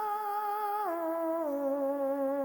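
A sustained, eerie synthetic monster vocal tone from the game My Singing Monsters glides downward in steps, hollow and ghostly, steady loudness with no other sounds.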